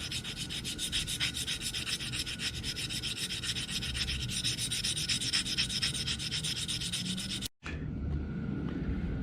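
Steady, rhythmic rubbing of 400 grit sandpaper back-sharpening the fret ends on a Fender Jaguar J Mascis Signature guitar, close and continuous, with a brief break near the end.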